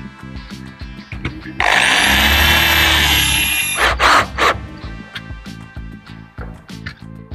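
A power drill drives screws into an aluminium door frame while a lock is installed: a loud sustained motor whine for about two seconds, then two short bursts, with clicks and handling knocks around it.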